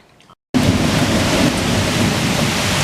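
Hailstorm with thunder and heavy rain, a sudden loud dense roar of pounding hail and rain that starts abruptly after a brief quiet gap and continues steadily, close by.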